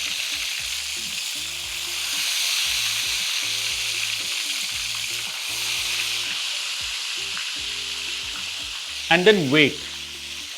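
Ghewar batter poured in a thin stream into hot oil, giving a loud, continuous sizzle with rhythmic bubbling, then a sharper, bursting surge of frying near the end, with a brief voice speaking.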